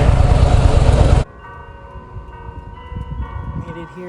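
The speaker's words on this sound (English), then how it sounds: "Bell tower's ringing here in Leavenworth." A church bell tower rings out in Leavenworth, its steady resonant tones sustained through the clip after a loud burst of wind or engine noise at the start cuts away, with low traffic rumble underneath.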